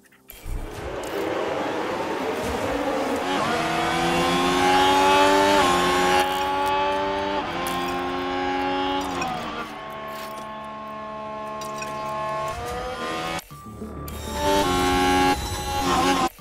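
A pack of Formula 1 cars launches off the grid at the Qatar Grand Prix in F1 Manager 2023, engines rising in pitch through overlapping upshifts, loud and sustained, with a brief dip before revving again.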